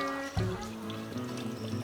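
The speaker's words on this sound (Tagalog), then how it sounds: "Lagyan natin ng tubig tubig." Water pours into a cooking pot for a Filipino countryside boodle-fight lunch with bony meat, a steady close trickling stream lasting under two seconds, with faint background hum.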